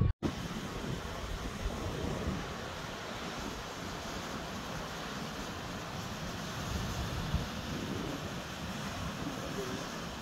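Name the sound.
wind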